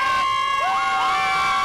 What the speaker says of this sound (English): The cheering and excitement began well before kickoff.